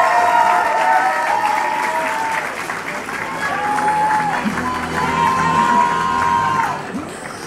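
An audience at an esports gala applauds loudly and steadily, with scattered cheers and whoops rising from the crowd. The clapping fades slightly near the end.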